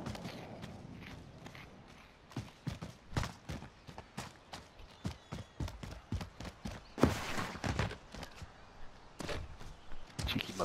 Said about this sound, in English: I can hear his footsteps.